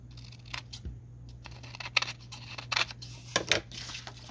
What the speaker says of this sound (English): I'm just trimming this to even this out a little bit more